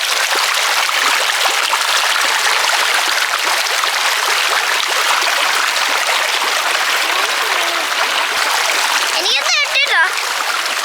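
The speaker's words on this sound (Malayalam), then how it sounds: "മലേൻ്റെ മേലെ നിന്ന് വരുന്ന വെള്ളം" Cold water rushing down from the mountain in a stream at Santhanpara, Idukki, Kerala, a steady loud splashing flow that fills the whole stretch, with a few brief chirping sounds near the end.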